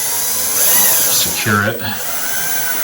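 A power drill drives self-tapping screws while mounting arcade buttons and a joystick, giving a loud whining buzz that rises and drops in pitch as the screw bites in, with a person speaking over it.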